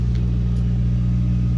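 A 1968 Pontiac Firebird engine runs at a smooth, steady idle, a loud close low rumble with even pulsing and no voices.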